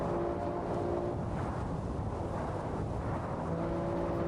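A BMW G82 M4 driving in Sport Plus mode gives a steady, broadband engine and road roar, constant and fairly loud throughout, with a faint tonal whine riding on top and no voices.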